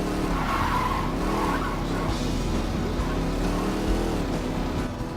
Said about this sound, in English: One of the coolest and smoothest looking turns that you can pull off in this type of Bootlegger is to where after you turn, your car bounces